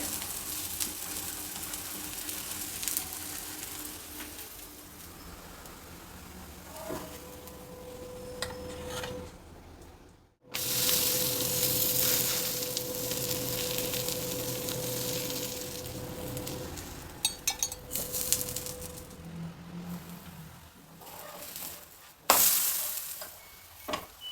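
Methi leaf talipeet cooks covered on a pan with a continuous frying sizzle and crackle. A lid clinks and lifts partway through, and the hiss swells brighter after a short gap.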